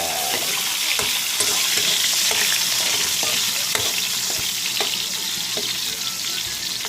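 Food with tomatoes sautéing in a pan: a loud, continuous hiss of frying with steady sizzling and occasional sharp stirring clicks and scrapes, close up and with no talk over it.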